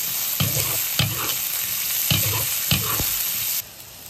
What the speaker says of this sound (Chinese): 把肉和大蒜炒香一下，就可以加白辣椒跟干豆角